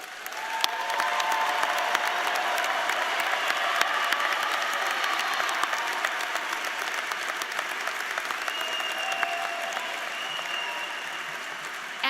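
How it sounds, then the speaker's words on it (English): Applause from a large audience at a university commencement ceremony in the College of Science and Mathematics, a sustained wash of clapping that holds steady and slowly thins toward the end, with sharp individual claps standing out. "be recognized by our applause"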